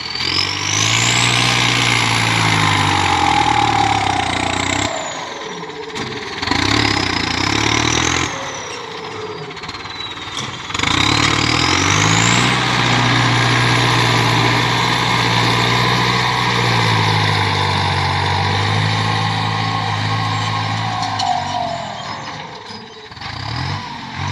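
A 6610 tractor engine running loud and close, a rough low mechanical drone with shifting pitch as it revs up and settles, broken by two short dips in noise, with no talking.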